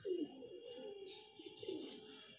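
Racing pigeons coo in a low, throaty, repeated rhythm at close range, with soft rustling and a few faint higher chirps around them.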